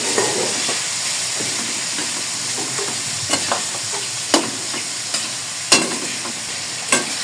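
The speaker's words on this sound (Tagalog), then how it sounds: "Durog-durogin mo muna Kuya Eric yung ng kamatis" Tomatoes mashed in a hot pan while cooking pinakbet: a constant close sizzle with occasional sharp knocks and scrapes of a spoon pressing against the pan.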